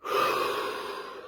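A single deep inhaled breath, close and fairly loud, drawn in sharply and then tapering off over about a second with no talking.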